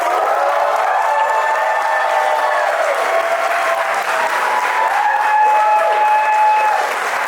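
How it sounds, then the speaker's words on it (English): Guests at a mehndi and welcome party applaud after a sung performance, a sustained wash of clapping with faint cheering and lingering musical tones underneath. "let's give her another big round of applause"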